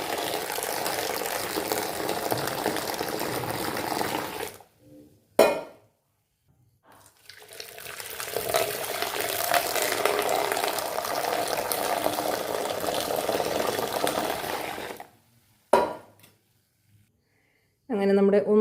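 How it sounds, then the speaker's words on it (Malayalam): Masala tea poured forcefully back and forth between vessels to froth it, a steady splashing liquid rush in two long bursts separated by brief pauses, close and fairly loud. "നല്ല ശക്തിയായ രീതിയിൽ അങ്ങോട്ടും ഇങ്ങോട്ടും ഒഴിച്ച് പതപ്പിച്ചെടുക്കണം"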